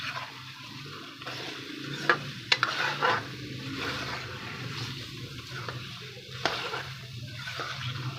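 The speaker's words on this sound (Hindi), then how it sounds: "आलू और अंडे अच्छे तरीके से मिक्स कर लेंगे हम" Potatoes and eggs are stirred through masala in a pan for aloo anday shorba, with repeated scraping strokes and clicks over a soft continuous sizzle and no talking.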